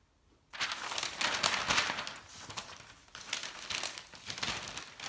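A sheet of paper is grabbed and handled, giving loud close crinkling and rustling in irregular bursts after a brief quiet start.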